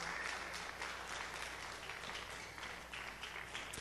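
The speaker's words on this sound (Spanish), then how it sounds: "Dele un aplauso bien fuerte al Señor por la sangre de Jesús" Church congregation applauding as a faint, dense, steady patter of many hands, distant and even throughout with no clear voices.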